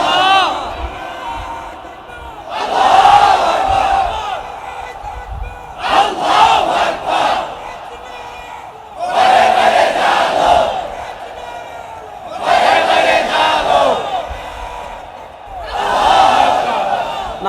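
A large crowd at a religious sermon chants slogans in loud, rhythmic bursts, five roaring waves separated by short pauses, filling the space close and powerful.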